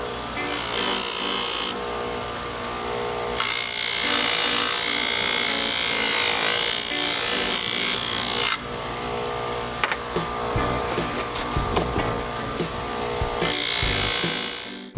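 A power tool polishes the screw heads of re-chromed boat hardware, a loud continuous whirring grind that cuts off and restarts, with rubbing and scraping bursts between runs.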